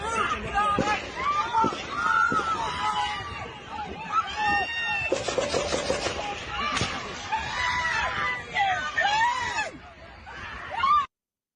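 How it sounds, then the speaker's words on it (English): Crowd screaming in a played-back video recording at a political rally where shots were fired, frantic overlapping shrieks and shouted voices, loud and continuous with sharper cries rising out of the babble before cutting off abruptly. "And a lot of screaming."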